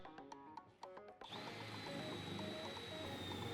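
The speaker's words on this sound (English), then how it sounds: "we're going to go ahead and drill those holes in the floor pan" A power drill bores holes into a car's floor pan, a close, steady whine that starts abruptly after a few knocks and runs continuously under a faint higher tone.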